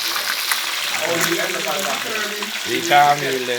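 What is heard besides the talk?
fish frying in a pot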